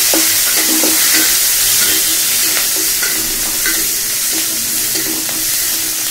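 Mustard seeds frying in hot oil in a pan, a loud continuous sizzle with repeated scraping stirs and crackles throughout, no talking.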